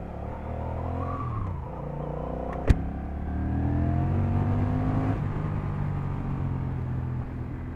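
2024 Honda Rebel 1100 motorcycle engine while riding, a loud steady drone that rises and falls through gear changes, with rushing wind noise and one sharp click partway through, no talking.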